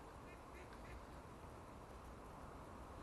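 A few faint duck quacks drift by early on at a Caerphilly/Bedwas fishing spot, brief calls under constant blustery wind noise.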